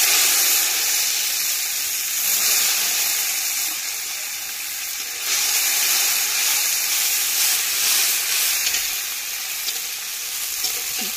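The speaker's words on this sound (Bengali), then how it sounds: "ফোড়ন দিয়ে দেবো, 5 ফোড়ন, কালো সর্ষে, জিরে," Whole spices, black mustard seeds, cumin and ginger, sizzle steadily in hot oil in a large pot cooked for fifty people, with a continuous bright frying hiss that swells and eases with occasional stirring.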